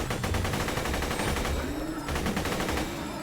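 Machine gun fire in the video game Borderlands 2, a loud, continuous rapid stream of shots with an even rhythm and a brief dip near the middle.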